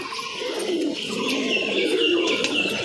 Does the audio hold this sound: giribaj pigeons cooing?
yes